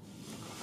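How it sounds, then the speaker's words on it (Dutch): Strong wind gusts at a river ferry crossing make a brief, steady rushing roar over open water, with low rumbling buffets against the microphone. "Ja, de wind is heel erg."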